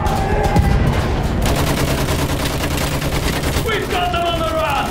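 Machine gun fire rattles in rapid, continuous bursts amid dense, loud battlefield noise in the video game Battlefield 1, with shouted voices and explosions mixed into the steady din.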